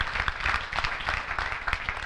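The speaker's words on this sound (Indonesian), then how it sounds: "Ayo beri tepuk tangan yang meriah buat Tuhan Yesus." A church congregation claps warmly during a Sunday worship service, producing a steady, dense wash of applause from many hands at moderate distance, with faint voices mixed in.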